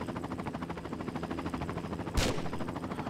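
Rapid automatic gunfire rattles continuously at a helicopter in the Tomb Raider video game, with a louder burst or impact near the end, dense and close.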